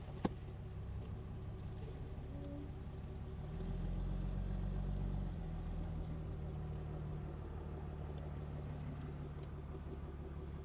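A Dodge Cummins diesel pickup in limp mode idles with a steady low rumble heard from inside, and the engine note deepens and swells briefly as the truck is shifted into gear before settling back.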